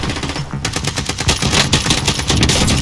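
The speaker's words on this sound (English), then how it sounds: "Oh, getting shot at." Video game gunfire, a rapid automatic burst of close, loud shots in a fast rattling rhythm that runs almost continuously after a brief opening.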